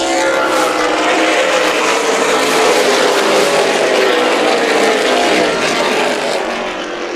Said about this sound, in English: That's a wall of cars from there.